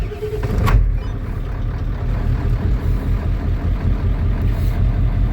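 A 1994.5 Ford F-350 Powerstroke diesel cranks and catches with a short burst, then settles into a steady, low, rattling idle close by, loud and unbroken for several seconds.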